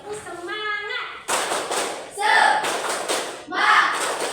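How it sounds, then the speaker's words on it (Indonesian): A class of eighth-grade pupils performs a rhythmic spirit clap, standing together: bursts of group clapping in short patterned phrases, with children's voices chanting between and over the claps. "Tepuk semangat."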